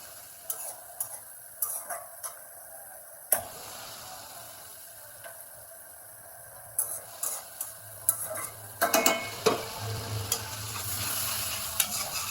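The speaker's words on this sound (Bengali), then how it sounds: "এই তো ওখানে ভাজিটা একটু ফেরত করি" Spiny gourd (kakrol) slices frying in oil in a pan are turned over, giving a continuous sizzle broken by scraping and clinking of a spatula, close up with no voices.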